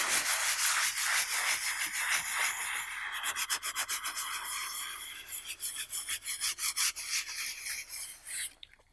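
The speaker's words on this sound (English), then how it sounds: "So I'm scratching through to the blue paint." A tool scratches through layers of paint down to a blue layer on a painting, first as a dense rough rubbing, then as a quick run of separate rasping strokes, close and alone.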